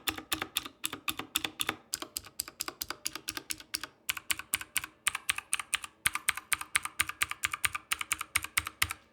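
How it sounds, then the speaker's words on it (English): Typing on a 1STPLAYER DK 5.0 mechanical keyboard with clicky switches like Cherry MX Blues, a close, quick run of crisp individual keystrokes in uneven bursts with short pauses. "these would be equivalent to Cherry MX Blues. And here's what they sound like."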